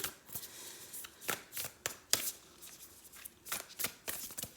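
A deck of oracle cards shuffled by hand up close, with a series of quick riffling bursts in an uneven rhythm, fairly quiet against a still room and no talk.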